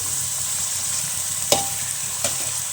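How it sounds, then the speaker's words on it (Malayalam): Onion and tomato are sautéed with salt as the base for a prawn masala, giving a constant soft sizzle broken by two sharp scrapes of a spoon in the pan. "ഉള്ളിയും തക്കാളി എല്ലാം വഴറ്റിയിട്ടിട്ടുണ്ട്"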